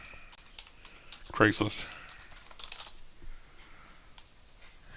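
Keys clatter on a computer keyboard in quick light taps, scattered under a person talking briefly.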